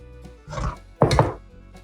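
A knife chops skinned peppers for home-canned salsa ranchera, giving two firm, close thunks on a cutting board about half a second apart, separated by near silence.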